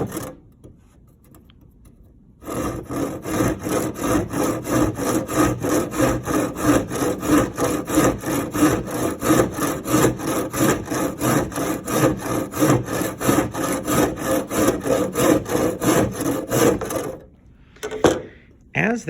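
A hand saw cutting a shallow kerf in wood with light back-and-forth strokes, a close, steady rhythmic rasp that runs for about fifteen seconds before stopping.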